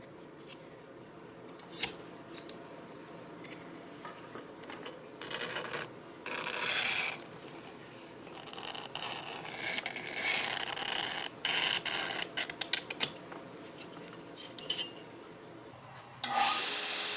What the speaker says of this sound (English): The big thing here is when you're trying to grind that edge like I am here